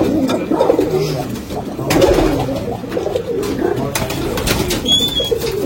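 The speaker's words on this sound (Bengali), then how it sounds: "এটাও আন্ধ্রাই পায়রা, দাদা আনিয়ে দিয়েছে।" Andhra pigeons in a loft give low, overlapping coos with occasional wing flaps, fairly close and steady throughout, with a faint voice in the background.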